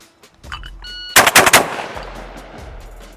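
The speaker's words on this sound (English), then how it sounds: "That was pretty decent shooting, but I threw early, yeah." Remington V3 Waterfowl Pro semi-auto shotgun fired at clay targets outdoors, a quick string of sharp loud blasts in about half a second after a faint mechanical click, then a fading echo.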